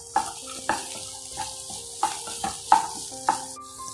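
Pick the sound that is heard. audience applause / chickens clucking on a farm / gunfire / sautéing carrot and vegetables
sautéing carrot and vegetables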